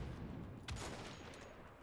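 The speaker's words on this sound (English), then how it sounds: "Explosions!" Combat in Wolfenstein: The Old Blood erupts with rapid gunfire and a sharp blast in the middle, heard faintly over a dense background rumble.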